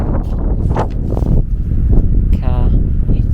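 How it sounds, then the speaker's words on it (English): Heavy wind buffets the microphone in low, rumbling gusts that run through the whole clip, with a few faint higher swishes on top. "You won't be able to hear it, it's so windy."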